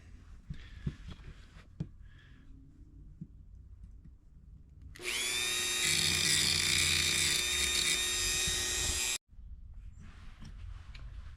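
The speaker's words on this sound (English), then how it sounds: "But I do have a Dremel." A Dremel rotary tool grinds a part from a 1970 Chrysler A-904 transmission, a loud, steady high-pitched whine lasting about four seconds that cuts off abruptly, with quiet workshop handling before and after.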